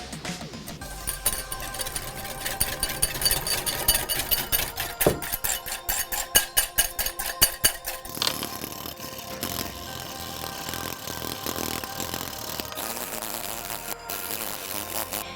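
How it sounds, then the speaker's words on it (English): Hand whisk whipping dalgona-style coffee mixture for a tiramisu whipped latte, a rapid rhythmic clatter of wire against the bowl that builds into sharp regular strokes midway, then settles into a steadier, softer whisking. "Today, I'm going to use a hand whisk, and we want to keep whisking it until we get to a nice thick consistency"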